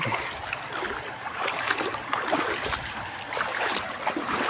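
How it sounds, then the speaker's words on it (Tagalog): A clear rural river in the provinces rushes and babbles nearby, a continuous broadband wash of flowing water with small splashes and gurgles, close and fairly loud. "Magandang pakinggan ang lagaslas ng tubig"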